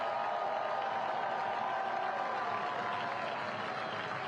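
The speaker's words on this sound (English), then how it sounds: "He receives a hero's applause off the pitch." Stadium crowd applauding a substituted goal-scorer as he leaves the pitch during a Nashville SC versus FC Dallas US Open Cup match, a steady distant wash of clapping and crowd noise.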